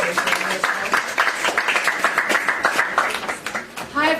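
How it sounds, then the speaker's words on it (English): A small crowd at an activist gathering applauds for a new chairperson, scattered clapping that swells and trails off over a few seconds, with voices and a chuckle mixed in near the end. "let's give a little round of applause for Joy"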